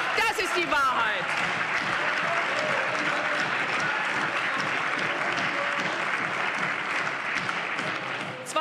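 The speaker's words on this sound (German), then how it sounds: "Applaus" Sustained applause from members of the North Rhine-Westphalia state parliament during a debate on primary schools. A voice is heard briefly at the start, then dense, even clapping carries on for several seconds before tapering slightly at the end.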